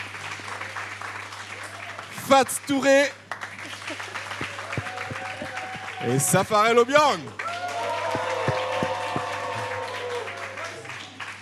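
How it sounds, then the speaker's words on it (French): A studio audience at a television magic show applauds and cheers, the clapping swelling under an announcer's amplified voice and continuing steadily toward the end. "qu'on applaudit très très fort encore une fois"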